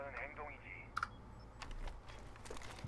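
Quick, quiet clicks of typing on a computer keyboard come in uneven bursts, with a couple of sharper key taps, behind faint talk and game sounds in Rainbow Six Siege.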